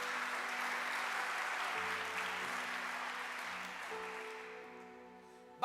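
A church congregation breaks into sustained applause, a dense steady wash of many hands clapping that gradually thins and fades away.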